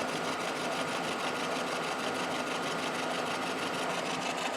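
A horizontal milling machine takes a 100-thou cut across a cast iron straight edge, giving a steady, dense mechanical whir with a fast, even rhythmic chatter that runs loud and unbroken from start to finish.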